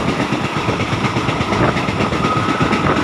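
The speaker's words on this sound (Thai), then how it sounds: "ตอนนี้ขบวน 445 นะครับกำลังทำขบวนเข้าสู่สถานีชุมทางบ้านทุ่งโพ" A passenger train rolls into a railway junction station with a steady rumble and rhythmic wheel clatter, loud and continuous, with no voices.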